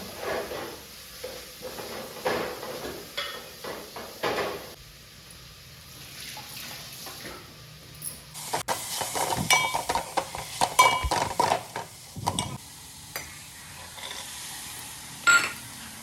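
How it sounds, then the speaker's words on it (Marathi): Mixed vegetables with tomato are stirred and sautéed in a pan over a wood-fired stove, with a soft sizzle under repeated clinks and scrapes of a spoon against the metal, some louder clatters late. "एक एक करून सगळ्या भाज्या यामध्ये मिक्स केल्या"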